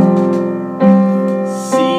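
Sustained piano chords from the chorus of a song, with three struck chords in steady succession, each ringing and blending into the next, played close and alone.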